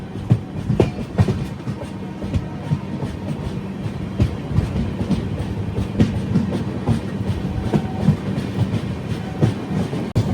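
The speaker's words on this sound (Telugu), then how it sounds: "ఏదో ట్రైన్ ఉంది అక్కడ" The Rayalaseema Superfast Express rumbles close by, its wheels clattering over the rail joints in a steady rhythmic clickety-clack.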